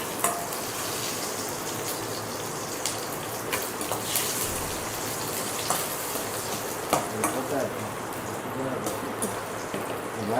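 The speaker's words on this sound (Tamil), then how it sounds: "இப்போ மிளகாயை போட்டு அதில் வறுக்க போகிறோம்." Dried red chillies fry in oil in a pan for tomato chutney, a dense continuous crackling sizzle like light rain with scattered sharper pops and stirring scrapes, close and steady throughout.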